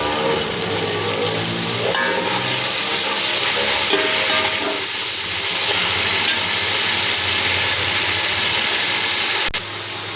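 Masala with green chillies and a splash of water frying in a pan, a continuous loud sizzle and crackle with faint scraping of stirring, steady throughout without any talk.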